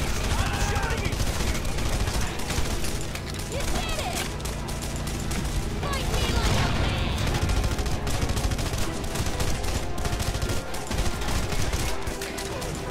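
Energy weapons blaze in rapid, dense bursts throughout a Red Faction Guerrilla firefight on Mars, loud and continuous with mechanical clatter and a voice talking over parts of it.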